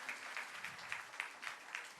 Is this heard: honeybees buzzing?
no